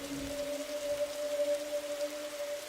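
Steady rain pattering on a rooftop in The Darkside Detective video game, a soft, continuous hiss of drops under a faint sustained musical hum.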